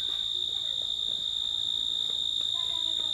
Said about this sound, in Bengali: এখানে ঝিঝি পোকার ডাক আরও তীব্র শোনা যাচ্ছে